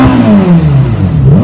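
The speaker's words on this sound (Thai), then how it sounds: "เดี๋ยวมาฟังเสียงของ SF90 Stradale" Ferrari SF90 Stradale engine, a 1000-horsepower supercar, revving loud and close, its pitch sweeping down and then climbing again in one sustained, continuous blast.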